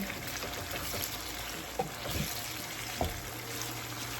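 An egg fries in a pan with a steady hiss and crackle of sizzling oil that runs throughout. Faint clicks and pops sound now and then, and no voices are present.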